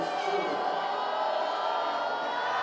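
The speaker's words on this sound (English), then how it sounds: "the crowd is into it here" Crowd at a college softball game between FSU and Alabama cheering and shouting steadily throughout, a dense continuous roar of voices with no pauses.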